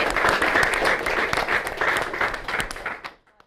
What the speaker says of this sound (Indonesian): Tepuk tangan lagi kali ya?